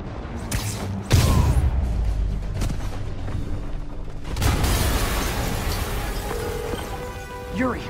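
A video game explosion booms from the Spider-Man game on PS4, with a loud low blast near the start and a second rumbling burst midway, followed by lingering debris and alarm-like tones.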